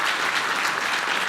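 A crowd at a city's state-of-the-city address breaks into applause for the mayor, a brief, full, steady burst of clapping.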